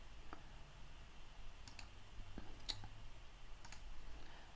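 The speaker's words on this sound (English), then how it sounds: "I'm just going to right click and say extract" A computer mouse gives a handful of faint, crisp clicks, single and in quick pairs, over a low steady room hum while files are extracted. No one talks.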